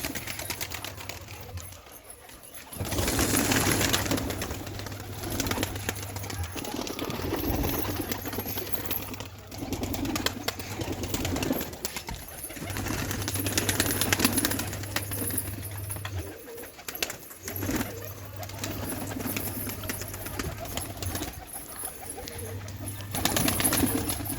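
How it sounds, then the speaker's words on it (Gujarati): Pigeons leaving their loft fill the air with steady, repeated low cooing, joined by bursts of wing flapping and rustling from nearby birds, with no talk. "જો કબૂતર નીકળવા માંડ્યા બારે"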